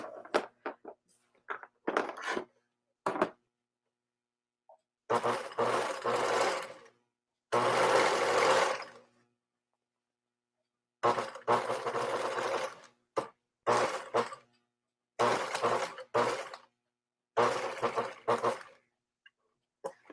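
Sewing machine stitching a shirt in repeated bursts of whirring, each lasting one to two seconds with short pauses between, close and fairly loud, with no talking.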